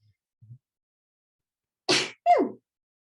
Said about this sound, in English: since I sneezed on it